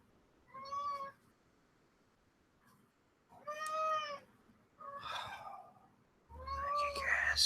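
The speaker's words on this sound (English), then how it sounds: "Stupid cat." A cat meows three times at close range with pauses between calls, followed by a rougher, breathy cry and a final meow over a low thump, with no talking.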